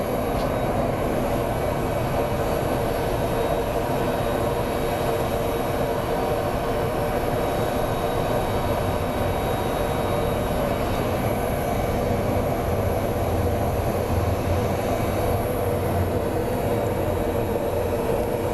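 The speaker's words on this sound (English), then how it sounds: "Great landing by the Allegiant." An Allegiant airliner lands at Phoenix Sky Harbor airport with a loud, continuous engine and rolling roar that stays steady for almost twenty seconds, close and dense, with no one talking.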